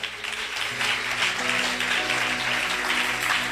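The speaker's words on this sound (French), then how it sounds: "Dans ce cas, acclame très très très très fort le Seigneur." A church congregation at a worship service applauds and cheers loudly for the Lord, a dense, continuous wash of clapping and voices that lasts the whole stretch.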